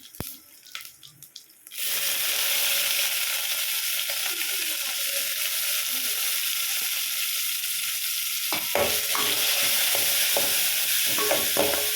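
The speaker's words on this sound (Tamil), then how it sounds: "இப்போ நம்ம எடுத்து வச்சுருக்க வெங்காயத்தையும் சேர்த்துக்கலாம்." Onions hit a hot pan for mushroom biryani, a loud, steady sizzle bursting in after a few quiet knocks and holding close, with stirring scrapes later.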